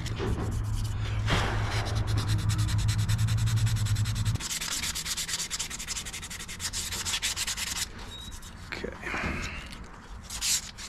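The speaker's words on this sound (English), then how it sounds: "I'm going to just hand sand around the edges of that because I don't want to mess up." Cured epoxy on a Heritage Rancher .22 revolver carbine is sanded by hand with 220 grit sandpaper, giving close, continuous rasping strokes that shift in pitch and pace, with brief pauses between passes.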